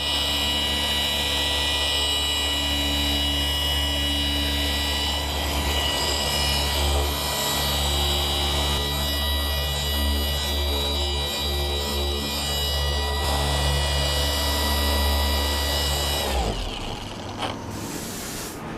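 A Milwaukee M18 cordless random orbital polisher runs with a steady, continuous motor whine for about sixteen seconds, then cuts off abruptly.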